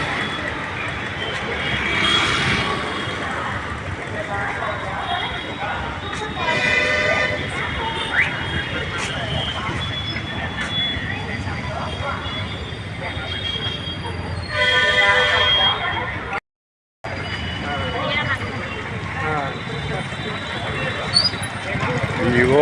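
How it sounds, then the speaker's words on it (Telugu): An old locomotive at Vijayawada railway station, with rumbling rail and engine noise, metallic squeals and clanks, continuing throughout as people talk nearby and a brief dropout interrupts the sound. "ఈ ఓల్డ్ ఇంజిన్ చాలా బాగుంది."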